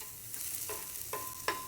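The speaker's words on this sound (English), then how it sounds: "Ooh, I love that sizzle." Oil sizzles quietly in a hot pan while cooking street tacos, with a few short stirring scrapes and hisses, faint and close, no talking.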